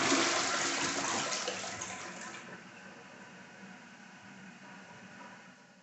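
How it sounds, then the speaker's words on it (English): Water rushes into the empty tank of a newly installed Glacier Bay Power Flush toilet, loud and close at first, then settling into a quieter, steady filling hiss. "I can hear the water is filling up the tank."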